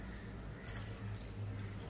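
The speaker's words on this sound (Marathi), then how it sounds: "आता आपण डाळीमध्ये भरपूर असं पाणी घालूया." Water is poured into a bowl of washed lentils (dal) set to soak, a soft, quiet splashing and trickling that comes in short gentle bursts.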